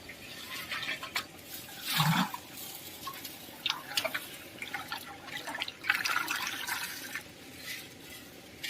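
Water is released into a hatchery tank for catla fish eggs in Bankura, giving faint, irregular trickling, splashing and dripping with small knocks, heard alone without voices.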